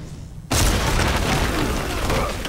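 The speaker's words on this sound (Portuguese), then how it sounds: "Vai explodir! Explodindo agora!" A loud explosion goes off abruptly in the Batman: Arkham Origins video game, a sudden broadband blast followed by a sustained, rumbling roar of debris and noise that stays dense and close.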